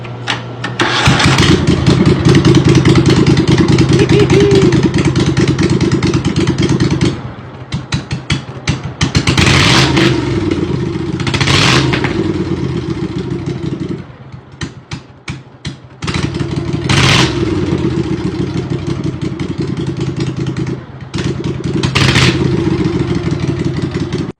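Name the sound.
Cub Cadet 3000 series mower engine running straight pipe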